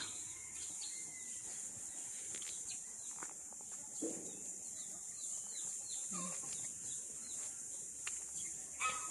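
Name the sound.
chicken clucking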